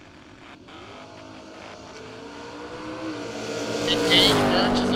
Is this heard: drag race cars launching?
yes